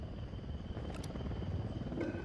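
Enemy helicopter in the Ghost Recon Wildlands game, a steady low rotor drone that holds loud and even throughout, with faint high blips over it.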